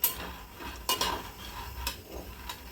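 A utensil scraping and clinking against a pan as raw chickpeas are stirred and roasted in a cloud kitchen, a few distinct metallic knocks over a soft background hiss, close and without talk.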